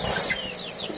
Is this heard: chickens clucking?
yes